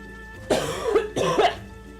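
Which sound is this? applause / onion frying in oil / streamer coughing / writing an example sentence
streamer coughing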